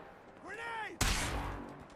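A sudden loud blast from a grenade going off in a shooter video game hits midway, after a voice shouting, with a short rumbling decay.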